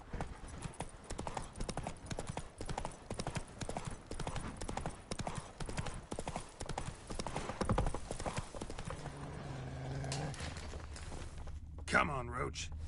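Horse hooves clip-clop in a steady galloping rhythm in The Witcher 3, close and prominent, with a brief whinny near the end and some game speech mixed in.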